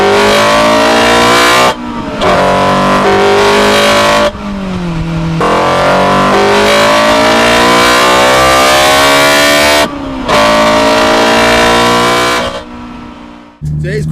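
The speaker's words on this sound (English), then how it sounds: "Johnny will be hitting the Vtec" A Honda S2000's engine screams through the gears inside the cabin, a loud rising wail climbing into VTEC with brief drops at each gear change, sustained over fourteen seconds.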